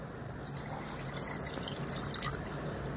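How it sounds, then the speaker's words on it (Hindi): A bowl of water is poured into dry semolina in a home kitchen for a light breakfast batter, giving a continuous soft splashing trickle that runs steadily for a few seconds. "इधर मैंने पानी ले लिया है एक कटोरी। अब डाल देती हूँ सूजी में।"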